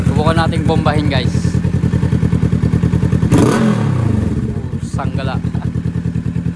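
A Kawasaki Z-650 or Honda ADV 350 motorcycle engine idles with a fast, even pulsing thump, then is blipped into a sharp rev that rises and falls back to idle, while someone talks close by over it.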